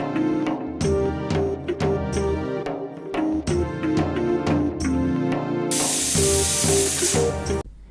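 Music plays, then a loud rush of hissing steam bursts out from a pressure cooker boiling ingredients near the end and keeps sputtering.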